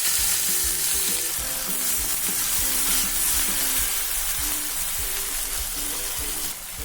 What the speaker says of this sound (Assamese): পিঁয়াজখিনি ৰঙচুৱা হোৱালৈকে এতিয়া মই ফ্ৰাই কৰিম।